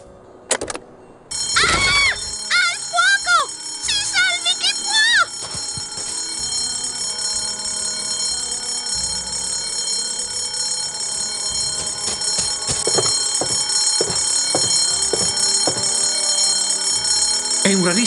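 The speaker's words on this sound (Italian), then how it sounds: "In caso di incendio, tirare l'allarme." In the video game Escape from Monkey Island, a fire alarm bursts into loud, shrill electronic warbling ringing that keeps sounding steadily for many seconds, with a voice speaking briefly near the start.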